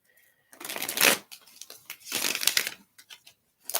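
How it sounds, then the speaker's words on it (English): Two close, crisp bursts of a tarot deck being riffle-shuffled by hand, separated by a short pause, with faint card taps afterward and no talking. "So just going to give a few more shuffles to the deck."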